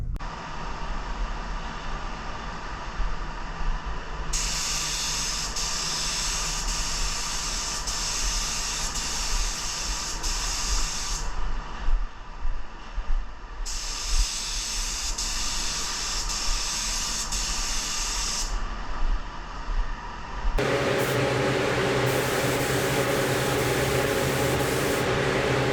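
Spray gun laying Revolt Auto Paint Euro Clear clear coat, mixed with medium hardener, over candy paint on a Honda SCL-500 motorcycle: loud steady hissing bursts with short pauses between passes, then a harsher continuous rush near the end, no talk.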